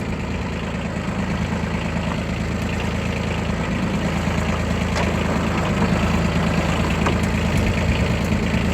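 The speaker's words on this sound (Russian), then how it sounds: "Хороший мощный тракторок" A Yanmar Ke-3 four-wheel-drive Japanese mini tractor idles in a steady, loud diesel chug, its rhythmic low knock continuing unbroken and close up with no talking.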